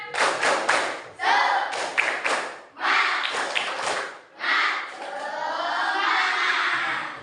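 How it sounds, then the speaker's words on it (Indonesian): Classroom pupils clap a fast rhythmic spirit-clap pattern together, crisp bursts of sharp claps with brief pauses between sections, ending in a sustained group shout or cheer. "Coba tepuk semangat."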